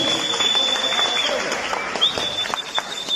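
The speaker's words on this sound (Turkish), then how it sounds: "Şöyle güçlü bir alkış alabilir miyiz?" Wedding-party guests applaud in a sustained burst of clapping, with a whistle-like tone and chatter layered over the crowd noise.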